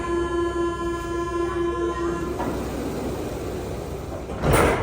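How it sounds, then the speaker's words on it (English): A Paris metro door-closing alarm sounds as a sustained electronic buzz-tone inside the train for about two seconds, then cuts off into rumbling carriage noise and a sharp door clunk near the end. "the classic alarm sounded, like right before the doors slam shut"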